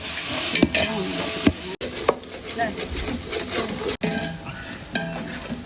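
Mutton and ground chili powder are stirred in a pot with scraping, clinking strokes against the metal, a soft sizzle underneath and a few sharp knocks.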